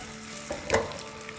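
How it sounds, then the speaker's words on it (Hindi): Potato pieces for Nepali aloo fry on a high flame, making a continuous close sizzle with one brief louder stirring scrape partway through. "फ्लेम हाई रखेंगे और इसको फ्राई करेंगे जब तक कि एक आउटर लेयर जो है वो गोल्डन टाइप की ना हो जाए"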